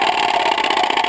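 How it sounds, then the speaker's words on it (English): A motorcycle engine running steadily at a constant idle-like drone, loud and close, with no talk over it. "This is what Stevie's motorcycle bike sounds like."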